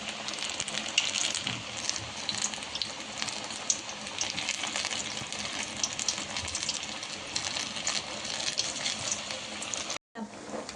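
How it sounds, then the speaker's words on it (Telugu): Cowpea vadas frying in hot oil, giving a steady, dense bubbling sizzle that runs unbroken at close range with no voices, cutting out briefly near the end. "బ్రౌన్ కలర్గా వస్తుంది చూడండి, మంచిగా ఫ్రై చేసుకోవాలి"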